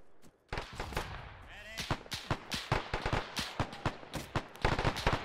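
Rapid bursts of machine gun fire in the Arma military shooter, loud and close, with sharp repeated cracks and short pauses, a voice briefly heard at the start.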